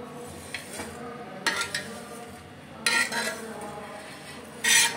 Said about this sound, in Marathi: तर मग आता आपण हा प्लेटमध्ये काढून घेऊया.